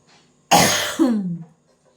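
A single harsh, loud cough bursts out close to the mic, followed by a rough, strained throat-clearing rasp, then quiet.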